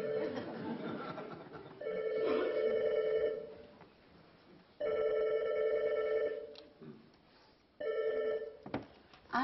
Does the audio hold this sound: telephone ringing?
yes